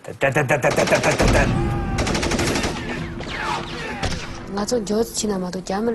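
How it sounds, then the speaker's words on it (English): Bursts of machine gun fire from soldiers shooting at Tibetans, rapid repeated cracks that come in clusters with voices and shouting mixed in throughout. "then you hear the machine gun fire"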